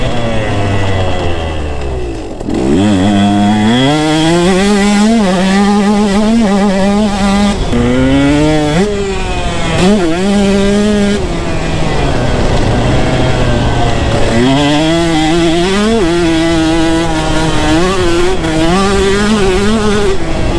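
A two-stroke dirt bike engine screams wide open at close range, its pitch climbing and dropping repeatedly through gear shifts and throttle blips, with a brief dip near two seconds before revving hard again for the rest of the run.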